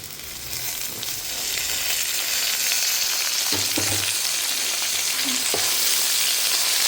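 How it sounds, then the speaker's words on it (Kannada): Onions frying loudly in a pan as tomatoes go in, a steady close sizzle with a few brief stirring knocks partway through, in a rustic full-flame sambar cooking setting. "ಇವಾಗ ನಾನು ಟೊಮೆಟೊ ಎಲ್ಲ ಹಾಕೊತಾ ಇದ್ದೀನಿ"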